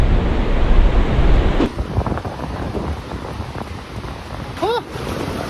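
Ocean surf rolls in at Woolacombe Beach, a loud broad wash of waves buffeted by heavy wind noise, with a brief high child's cry near the end.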